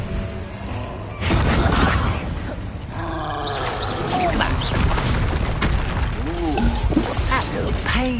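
Confringo explosion spell cast in the Hogwarts Legacy video game, booming blasts with crashing, crackling impacts, loud and near, layered with game voices and effects throughout.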